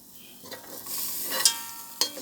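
A metal spoon clanks against a pan while noodles and vegetables cook, with a few sharp clinks near the end over a soft background sizzle.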